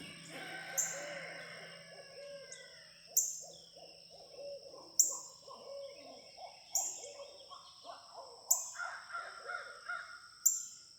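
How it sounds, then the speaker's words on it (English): Several owls hoot back and forth in a loose, overlapping chorus at moderate distance, with a crow cawing in among them and a low steady hum underneath. "We got a whole pile of owls down here"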